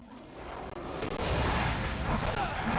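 Dense, continuous barrage of explosions and gunfire in Resident Evil Village, inside Heisenberg's factory with mines and explosive rounds, building into a loud, rumbling roar with no pauses.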